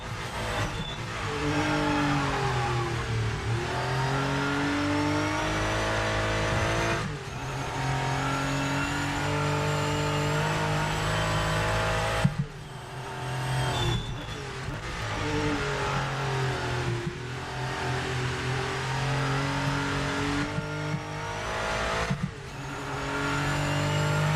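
A Porsche 992 GT3 in a racing video game revs hard and accelerates continuously, its engine note climbing and dropping through repeated gear shifts, loud and steady throughout.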